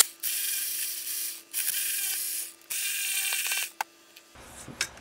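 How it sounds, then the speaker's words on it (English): A hand ratchet breaks loose valve cover bolts on a Honda Odyssey engine, giving several bursts of fast, close clicking separated by short pauses, then a few single clicks and light metallic handling. "I'm gonna go ahead and break all these loose and remove the bolts that are here along the front"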